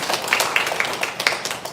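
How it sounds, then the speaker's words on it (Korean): A lecture audience gives a short round of applause for a professor, with sparse, uneven claps rising and falling close by. "박수 한번 주시죠."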